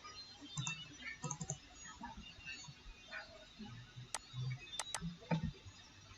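Computer keyboard keys pressed during design work, a few scattered soft clicks and taps at close range, with sparse isolated presses rather than steady typing, over a quiet room background.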